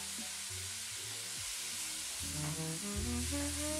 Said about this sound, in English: I deglazed everything with some soy sauce, some Chinese chili crisp sauce, some ketchup, and some balsamic vinegar